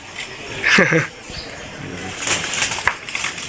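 Pigeons in a home nest, with a short burst of wing flapping near the start followed by faint rustling and shuffling, close by, with a voice speaking softly in places.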